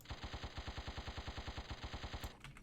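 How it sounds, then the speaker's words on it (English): The laser cannon in the video game Jedi Knight: Mysteries of the Sith fires a rapid, even burst of about twenty punchy shots in machine-gun rhythm, then stops abruptly. "this is also a new thing, is this laser cannon"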